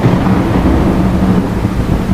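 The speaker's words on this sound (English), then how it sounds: "storm had rolled in quickly that evening, drenching the neighborhood in cold, unrelenting rain." A steady, loud wash of heavy rain mixed with a low rumble of thunder fills the scene without a break, a cold evening storm drenching a neighborhood.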